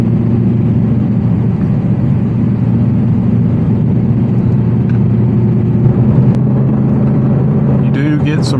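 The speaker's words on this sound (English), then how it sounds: "You do get some road noise here because 1, you're sitting so low, 2, you're in a dynamic setting in a supercar, and 3, because of the convertible" Steady low road rumble and tire roar fill the cabin of a 2023 Audi R8 V10 Spyder convertible supercar on the move, constant throughout with a brief louder bump near the end.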